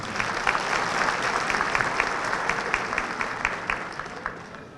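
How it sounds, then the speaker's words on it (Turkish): At an iftar dinner, a crowd of guests claps in a dense, even burst that fades slightly toward the end. "sizlerden bir alkış rica ediyorum"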